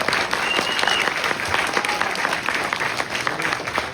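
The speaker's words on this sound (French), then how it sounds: "Oui, applaudissez." A graduation audience for the first graduating class of a secondary school claps steadily and densely throughout, a continuous wash of applause with no pause.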